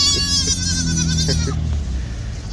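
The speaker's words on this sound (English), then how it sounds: "Here's the goats." Goats bleat on a farm where a concrete construction crew is at work, several wavering, nasal calls overlapping in the first half and then fading out, with low rumbling machinery and faint voices underneath.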